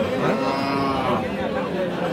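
Cattle at a cow market in Dinajpur, where Sahiwal cows and calves are sold, give a drawn-out moo over a busy crowd murmur.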